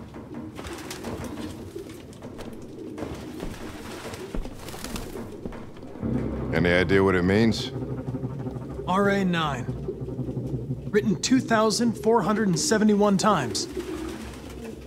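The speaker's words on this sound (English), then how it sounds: "No human could live with all these fucking pigeons." Pigeons coo repeatedly nearby in Detroit: Become Human, their throaty warbling calls rising in bursts over steady background ambience while someone talks.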